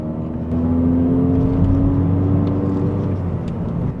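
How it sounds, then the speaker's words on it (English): An MG7 with a 2.0L turbo engine accelerates in sport mode, a steady loud engine drone and rising whir heard from inside the car, with no talking. "Under sport mode, it's just easy to take off."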